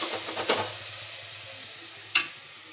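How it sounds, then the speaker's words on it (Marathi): Onions frying in a pan for biryani give a steady, low sizzle with two sharp clinks or scrapes, one early and one louder near the end, and no talking over it. "कांदा परतलाय आपल्या छान."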